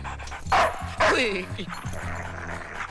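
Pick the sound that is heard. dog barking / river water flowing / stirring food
dog barking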